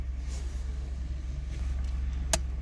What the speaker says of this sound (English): the car is running, it's purring along at 650 RPM